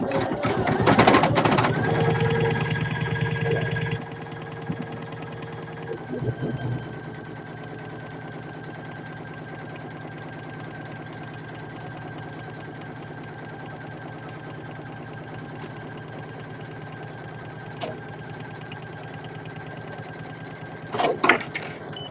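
A Poolin EOC06 single-needle embroidery machine stitches out a patch. It starts with a loud mechanical burst for a few seconds, then settles into a steady whirring hum with faint clicks and a brief louder rattle near the end.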